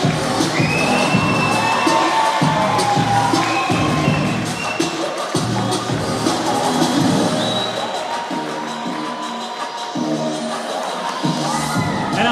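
A crowd at a Polaris 26 grappling event cheers loudly for a local Phoenix MMA fighter, with shouts, whoops and sharp yells rising and falling over a constant roar.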